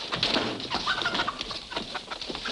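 Chicken clucking and squawking in a 1940s Western film scene, a run of agitated calls fairly close and continuous over a couple of seconds, with no talk.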